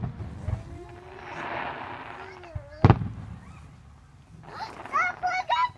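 Backyard fireworks go off in the Philippines: one sharp, loud bang near the middle and scattered crackles, with people and children talking throughout.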